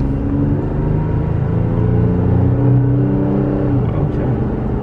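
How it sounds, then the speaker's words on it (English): Toyota Tacoma engine with an OV tune accelerating, a loud, close, steady low rumble with rising harmonic drone that holds for several seconds before easing off, no voices. "definitely hear the engine a lot more, to be honest with you. It's a nice purr"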